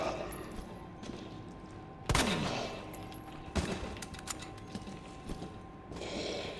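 Quiet gunfire in Resident Evil 2: a few sharp shots stand out over a low mechanical hum, spaced apart rather than in a steady stream.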